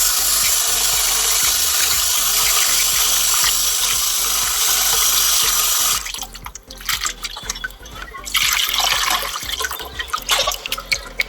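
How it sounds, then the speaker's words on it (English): Steady running water splashes continuously as beans are rinsed, with rhythmic low knocks and sloshing; the flow breaks up into choppier splashing toward the end. "I keep rinsing it till I get a very clear water"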